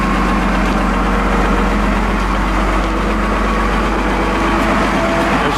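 A 2007 Komatsu GD555-3C motor grader runs as it articulates at the center joint, its diesel engine idling with a steady, loud, close low rumble that stays even throughout, with no talking.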